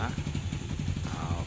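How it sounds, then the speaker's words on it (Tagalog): A Rusi TC 150 motorcycle engine runs close by with a fast, uneven low putter, struggling and failing to settle into an idle, with a voice talking over it. "mapandar man siya, hindi siya mag-a-idle"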